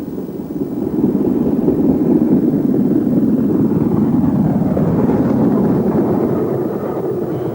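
LMS Black 5 steam locomotive 44932 of the Midland Trust, running near its Derbyshire home, gives a steady, loud low rumble that holds for the whole stretch with no voices over it.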